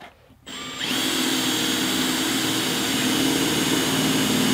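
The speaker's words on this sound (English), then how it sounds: "you line up your drill bit, you take your cup, you stick it right up against your surface that you're drilling" A power drill bores through metal with a cup pressed against the surface to catch filings, starting after a brief quiet moment and then running steadily and loudly with a high whine throughout.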